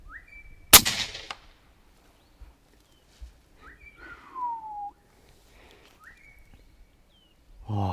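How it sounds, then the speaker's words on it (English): A single sharp air rifle shot cracks out loud and close in windy open country while hunting, with faint bird whistles before and after. "I take my time and I pull the trigger."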